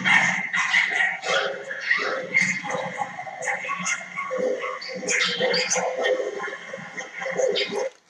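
Many purebred and mixed-breed dogs bark, yip and whimper at an illegal dog-breeding farm, an overlapping chorus of sharp barks, some near and some farther off, with people talking underneath.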